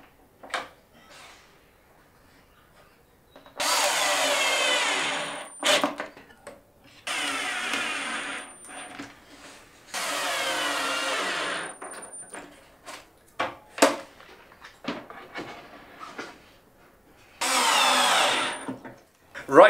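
Power drill driving screws into a wooden cabinet frame for a drawer wine rack, with four separate loud whirring bursts of about two seconds each, separated by quieter gaps of handling knocks and clamp clatter.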